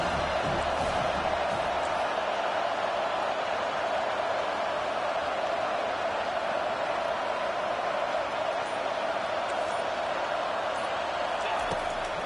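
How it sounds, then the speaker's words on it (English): Video game football stadium crowd noise during a third-down defensive stand, a dense continuous roar that stays loud and steady throughout, with scattered cheers and whoops in the wash. "Decibels rising as the crowd gets behind this defense on third down."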